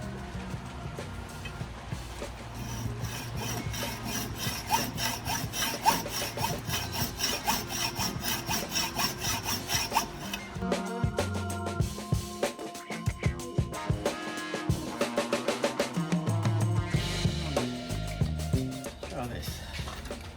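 A hacksaw cuts through a metal workpiece in a home lathe shop, its strokes rubbing in a steady back-and-forth rhythm, close and loud, with a brief change in pace midway.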